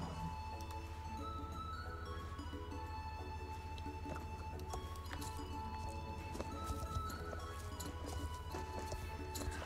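Horse hooves clip-clop steadily in the Star Stable Online video game, a continuous riding rhythm over a constant low engine-like drone and scattered game effects, with a brief whinny-like accent mixed in.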